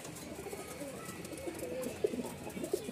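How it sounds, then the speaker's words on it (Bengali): Pigeons coo from a pair of birds offered for sale, soft low throaty calls repeating close by over a steady background hum and murmur. "আরও এক জোড়া কবুতর আছে এখানে"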